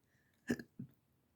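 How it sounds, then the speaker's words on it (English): A person hiccups twice, close and fairly quiet, a sharp throaty catch followed a moment later by a softer second one, with otherwise near silence around them. "had a slight hiccup"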